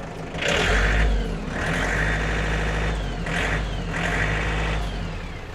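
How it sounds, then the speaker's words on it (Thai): Used Kubota-style EF514MU 51 hp tractor engine running steadily and loud, with a deep low rumble and a couple of rising revs, alone with no talk. "เสียงเครื่องบอกเลยว่าแน่นพร้อมใช้งานค่ะ"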